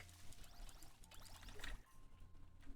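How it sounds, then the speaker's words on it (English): Crops being watered in the farming video game No Place Like Home, a soft pouring, trickling splash of water over a low background hum. "We're just running back over here to water our crops real quick."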